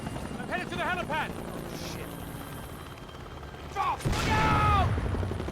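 A helicopter in Max Payne 3 thrums steadily beneath game effects, with brief bursts of gunfire and booms, and a few short, high, warbling sounds mixed in.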